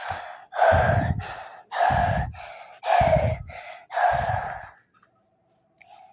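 Five deep breaths in a slow, steady rhythm during a medical check, each a long breathy exhale, close up, followed by near silence.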